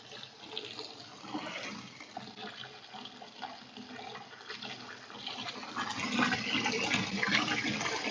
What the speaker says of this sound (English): Make sure to wash the noodles at least twice.